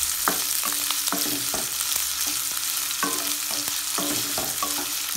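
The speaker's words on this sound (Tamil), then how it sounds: "ஆனியன் நல்லா ஃப்ரை பண்ணணும்." Onions fry in hot oil in a pan with a continuous close sizzle, while a spoon scrapes and stirs in quick, irregular strokes. No one speaks.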